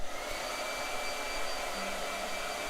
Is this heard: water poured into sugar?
no